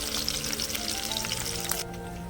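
Mustard-type tempering seeds, curry leaves and two sprigs of garlic frying in hot oil for a village-style Telangana curry, a loud steady sizzle that drops off sharply near the end.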